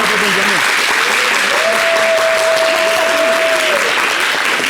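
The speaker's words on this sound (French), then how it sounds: "Vous applaudissez." A studio audience on a local TV show claps continuously and loudly, dense uniform applause with a sustained tone running through the middle.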